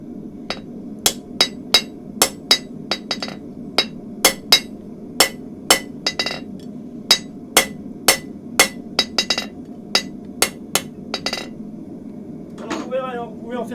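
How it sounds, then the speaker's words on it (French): Sharp metallic taps from the ball end of a hammer on hot metal while shaping a horse hoof pick, about twenty evenly spaced strikes over a low hum, then brief rustling. "J'utilise la boule du marteau."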